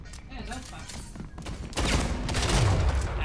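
Rapid gunfire from the sci-fi shooter Splitgate crackles in loud, dense bursts that grow heavier partway through, mixed with other game sounds.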